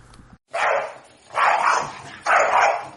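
A dog barks three times in steady succession, each bark loud, close and full-bodied, separated by brief pauses, with no talking over it.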